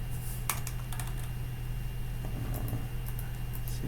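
Scattered keyboard typing, a few quick clusters of key taps followed by lone clicks, soft and partly buried under a loud, constant low electrical hum.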